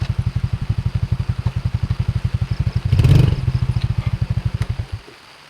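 A motorcycle engine idles with a steady thumping putter in the rain, revs briefly, then cuts out into near silence.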